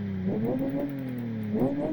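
A simulated non-V8 car engine in the racing game Live for Speed revs steadily with a smooth, buzzing tone that rises and falls, heard from the cockpit with some muffling. No one talks.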